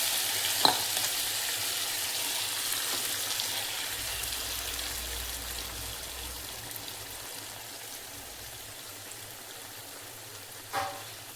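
Capsicum gravy sizzles and bubbles steadily in a pan as ground chili paste thinned with water is added, a soft continuous fry with a couple of faint utensil clicks, no voices.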